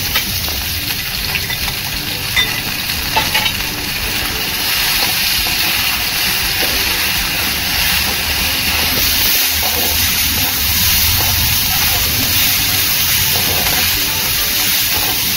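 Onion, garlic and crushed green chili fry steadily in a pan for an eggplant bharit, a dense continuous sizzle and hiss with occasional stirring scrapes, close and loud with no talking.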